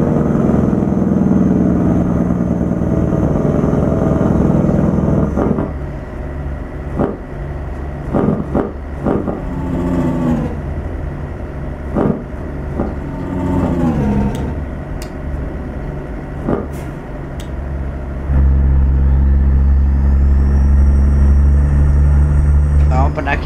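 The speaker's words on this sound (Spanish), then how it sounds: "como suena de bacano ese freno de motor, como truena de lindo" A fully loaded International 9400 truck's engine rumbles steadily while descending, breaking into a rapid staccato engine-brake chatter in the middle before the steady drone returns; a person talks over it.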